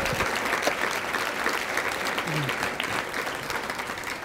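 An audience at a community prayer breakfast applauds award recipients: sustained, dense clapping from many hands, even in loudness from start to finish, with faint voices mixed beneath.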